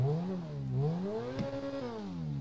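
A Subaru BRZ engine in GTA 5 revs in quick rises and falls, the pitch climbing and dropping several times in a close, steady growl with a brief click midway.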